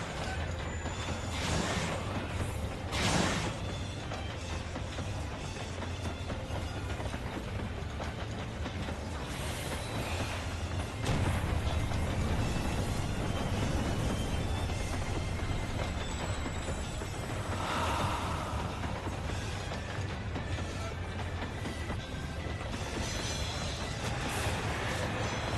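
Steady rumbling of a moving train car in Final Fantasy XIV, with continuous low mechanical rattle and periodic clanks and clicks rolling on for the whole stretch.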